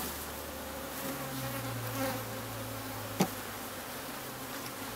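A swarm of honey bees buzzes as they are shaken from a frame into a new hive, a continuous close drone with a brief sharp knock partway through.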